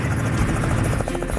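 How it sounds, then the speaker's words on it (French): A tour helicopter runs loud and close with steady rotor chop and a droning engine hum throughout, no talk audible over it. "Ça a commencé fort avec un tour d'hélicoptère."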